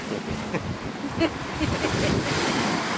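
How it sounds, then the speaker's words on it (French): Ocean waves break on the shore in a steady, rushing surf, with wind buffeting the microphone throughout. "Oh, la belle vague!"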